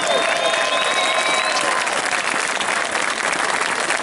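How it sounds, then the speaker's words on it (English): Loud crowd applause at an outdoor veterans' march in Birmingham, a thick continuous roar of clapping with a few whistles near the start, sustained throughout. "Let's give them another round of applause."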